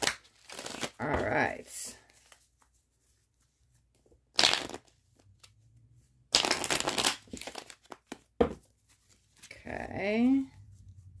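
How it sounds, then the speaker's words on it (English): Tarot cards being shuffled by hand in a few brisk riffling bursts, close and fairly loud, separated by pauses and alternating with a person's speech. "let me give this a shuffle"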